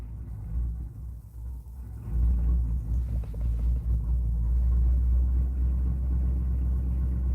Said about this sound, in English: Oh man, that cold start, right?